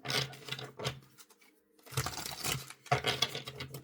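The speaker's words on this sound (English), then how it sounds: "let's shuffle some cards and see what we get" Cards are shuffled in quick riffling bursts, a crisp fluttering rush, then a pause before two more shuffles, close and fairly soft.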